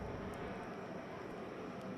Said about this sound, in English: There goes an airplane.